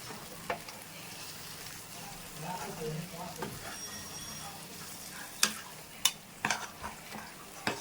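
Country chicken pieces being stirred in a pan while frying, with scraping and soft sizzling throughout and several sharp utensil clicks and knocks against the pan toward the end, close by.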